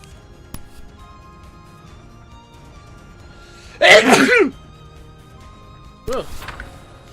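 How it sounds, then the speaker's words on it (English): A single loud, sharp sneeze bursts out close to the mic during a live stream, followed a couple of seconds later by a shorter, fainter second burst over a quiet background. "I had the sneeze"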